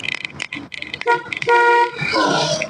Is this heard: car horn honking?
yes